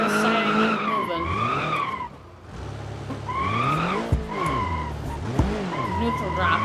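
A Ford Fusion peels out and skids, its tires squealing loudly in long wavering howls that drop away briefly, then return in repeated bursts with a couple of sharp knocks.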